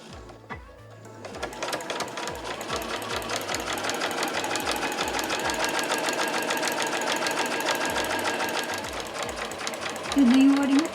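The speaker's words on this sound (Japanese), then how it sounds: "返し縫いからスタートしましょう。" A sewing machine stitches fabric for a tissue case and pouch, starting with a backstitch. It begins with a few slow stitches, then runs into a fast, steady, close mechanical chatter that lasts several seconds, and a voice speaks near the end.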